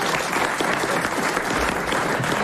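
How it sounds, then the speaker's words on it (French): A French television studio audience applauds a panel guest, a steady dense clapping that fills the whole moment without talk on top. "Bon, votre grande gueule, on l'applaudit."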